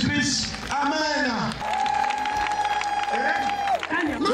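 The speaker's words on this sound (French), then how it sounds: "On acclame très fort, gloire à Jésus-Christ" A church congregation claps and cheers loudly to acclaim the Lord, mixed with shouting voices and a sustained musical tone underneath, lively and close throughout.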